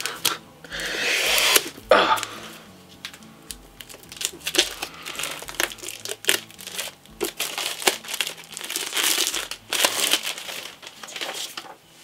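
Plastic wrapping on a manga package being torn open, loud close crinkling and crumpling in uneven bursts with sharp rustles throughout.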